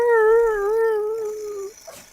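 A dog whines and howls in one long, wavering, high-pitched tone that lasts nearly two seconds before trailing off into a soft whimper, fairly close, with no talking.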